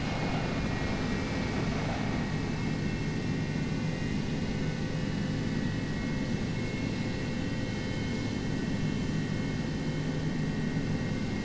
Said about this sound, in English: You've actually got planes taking off.